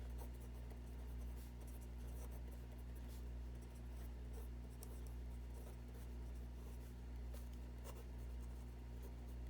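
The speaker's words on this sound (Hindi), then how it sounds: "यहाँ पे मैं लिख देती हूँ सॉल्यूशन सेट।" A pen writes a solution set on paper, giving faint, close scratching strokes over a steady low hum, with no talking.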